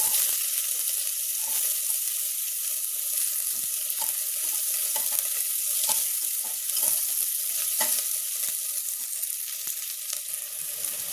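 Cumin, garlic and onion sauté in oil in a pan for potato chutney, a steady close sizzle punctuated by scattered spoon scrapes and taps on the pan.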